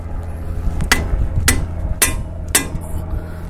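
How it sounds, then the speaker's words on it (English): A hammer striking a 3/8 breaker bar to break loose a bolt during a front brake job on a Toyota Camry, Lexus ES350 or Avalon: four sharp, evenly spaced metallic hits over low background noise. "I'm just going to take the edge of the hammer right here and hit it on the breaker bar"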